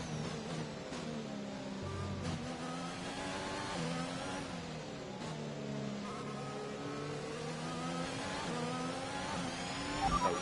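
A Formula 1 car engine in the F1 2021 racing game at the British Grand Prix screams steadily at high revs, rising and falling through gear changes, loud and continuous throughout.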